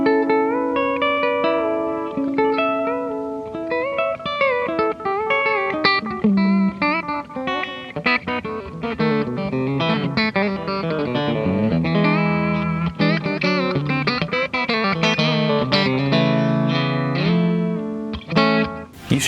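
Telecaster electric guitar fitted with a G-bender, played through a Fender Deluxe Reverb amp: a busy melodic lead line with bent notes and a country twang, close and fairly loud, no talking.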